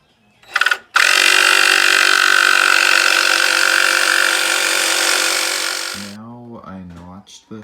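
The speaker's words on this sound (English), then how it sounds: "now I'm going to use the jigsaw to notch this out" A jigsaw notches out a board while framing in a window on an existing wall, a loud, steady buzzing cut for about five seconds, followed by someone speaking.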